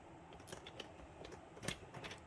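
Scissors snip through cardstock while a sliding fun fold card is made, giving a few faint, quiet cuts and clicks at irregular intervals against a soft background.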